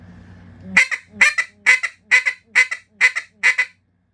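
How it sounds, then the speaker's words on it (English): A duck call plays a bouncing hen call, slowed down: a slow descending series of seven nasal, honking quacks, evenly spaced and loud, after a brief low hum. "The shape of it is just like a bouncing hen on a duck call"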